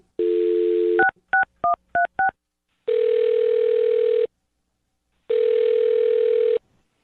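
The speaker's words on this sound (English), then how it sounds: "I'll dial her phone number right now" A touch-tone telephone sounds a steady dial tone, then a quick run of five short keypad beeps, then two long ringback tones, clear and close with no talk.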